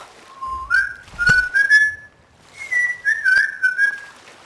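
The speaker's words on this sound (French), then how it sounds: "c'est vrai que j'ai entendu un bruit un peu bizarre, là. J'avais sifflé." A person whistles a wandering melody while playing the pirate game Sea of Thieves, two close, clear phrases of tuneful sliding whistling separated by a short pause.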